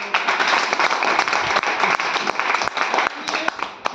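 A crowd at a farm product demonstration claps loudly for a presenter, a dense burst of hand claps that stays strong throughout while a voice carries on over the top.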